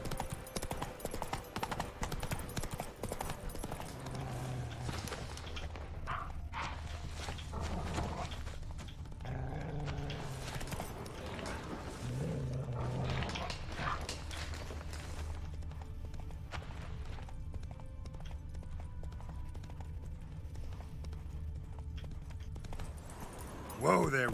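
Steady clip-clop of horse hooves while riding Roach in The Witcher 3, a video game set in Toussaint, continuous at a brisk trot under game sounds and a voice.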